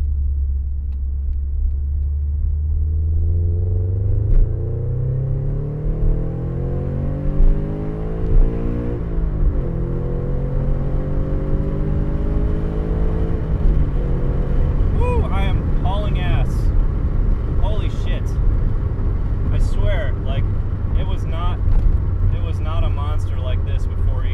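Scion FR-S running on flex fuel accelerates hard from close inside, engine drone climbing steadily through the revs, then shifting and building again with a rougher rumble, no talking.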